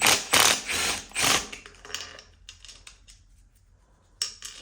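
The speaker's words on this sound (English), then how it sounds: "I think I might get that one with the wrench." A wrench ratchets rapidly in several loud bursts while backing a bolt out of a Honda K20A intake manifold, then settles into quieter, sparser clicks and a final short burst, close by with no speech.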